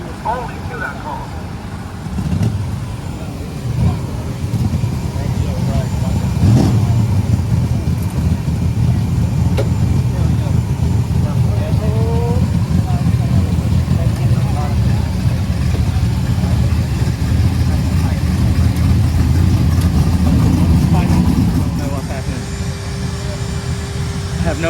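A race car engine at a drag race spools up with a loud, steady low rumble for about twenty seconds, then abruptly cuts out and drops away near the end, with voices faintly audible over it.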